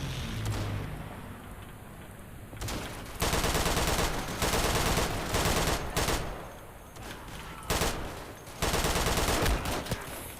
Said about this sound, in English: And they've got strafing runs.